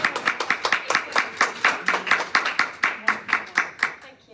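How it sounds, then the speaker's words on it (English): An audience at a Rotary International Foundation talk gives a round of applause, with steady close clapping from a modest crowd lasting a few seconds before fading. "give her a round of applause"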